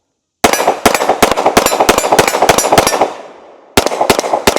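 A Glock 47 pistol with a 15 pound recoil spring fires 115 grain 9mm rounds in a fast string of sharp, loud, close shots that ring out briefly, then resumes after a short pause.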